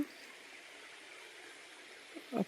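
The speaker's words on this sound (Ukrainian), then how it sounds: "Там знизу ще річка" Soft steady rush of flowing water, like a stream heard from a little distance, with a brief louder splash or knock near the end.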